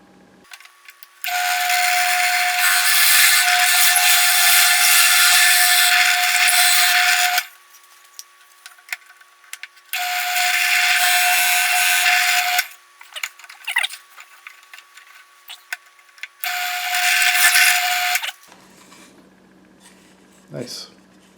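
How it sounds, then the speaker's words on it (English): A drill press boring a series of holes into a lathe stand: three long, loud, steady drilling runs with a high whine, separated by pauses filled with short clanks and handling noise. "I have a drill press, so I might as well use it, I guess. So here we go. Let's drill a bunch of holes."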